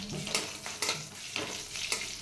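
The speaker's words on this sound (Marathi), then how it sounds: "फोडणी चांगली तडतडली" Tempering spices with asafoetida crackle and spit in hot oil for dhokla, with sharp bursts popping repeatedly over a steady sizzle, close and fairly loud, no voices.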